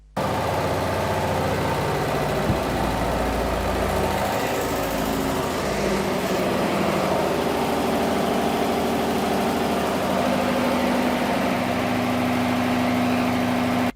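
An internal combustion engine on a dynamometer test bench runs with no load, giving a loud, steady drone with mechanical rattle that holds for the whole stretch and never changes pace.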